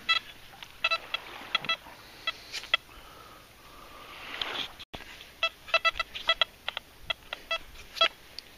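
A Racer 2 metal detector is swept over a strong gold target in Corsica. It gives a series of short, bright electronic beeps in irregular bursts, with a brief rising whine in the middle and quiet outdoor background.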